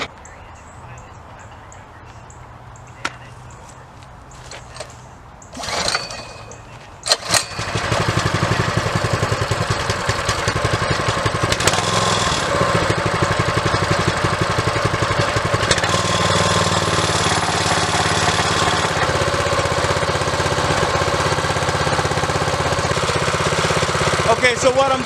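A Predator gas engine on a Harbor Freight 20-ton log splitter sputters through a few pull attempts, then catches and settles into a steady, loud, continuous running drone that holds to the end.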